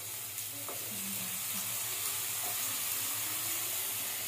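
Marinated brinjal (eggplant) slices coated in turmeric, chilli powder and salt shallow-fry in hot oil, giving a steady, close sizzle throughout with a few soft stirring scrapes early on.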